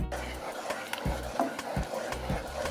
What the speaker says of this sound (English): now we're going to stir it till it's done